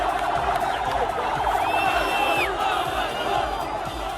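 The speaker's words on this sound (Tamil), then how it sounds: "அங்கு திரண்டிருந்த மக்கள் பிணை கைதிகளை நோக்கி கையசைத்தும் ஆரவாரம் செய்தும் மகிழ்ச்சியை" A large crowd of Israelis cheers and shouts as released hostages arrive, a dense continuous roar of many voices with whoops and a siren-like wail rising briefly over it, loud and close throughout.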